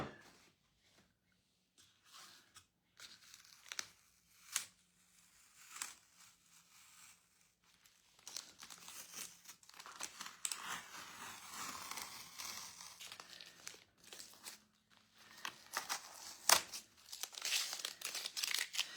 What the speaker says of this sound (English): if you pull directly to the side and go very slowly, very carefully, you stand less of a chance to tear your page